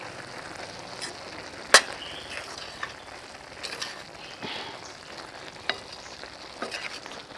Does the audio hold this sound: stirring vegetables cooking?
yes